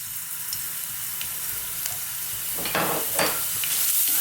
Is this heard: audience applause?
no